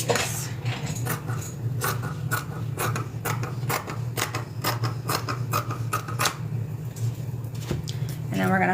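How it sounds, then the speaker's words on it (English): Scissors snip through a fabric bag pocket in a steady series of sharp metallic cuts about every half second, close up, over a low background hum. "We're gonna cut down the bottom. Oh, I left my scissors. That's okay, I'll just use these."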